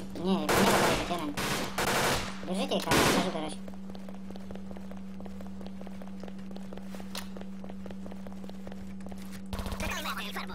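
Rapid automatic gunfire from an Alcatraz clan-war shooter game crackles in loud bursts over the first few seconds, then gives way to a steady low hum with scattered faint shots and one more burst near the end.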